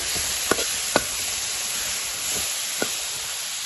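Masala with black pepper being stirred in a pan for a pickle: a constant low sizzle with a few distinct spoon scrapes and clicks against the pan, no talking.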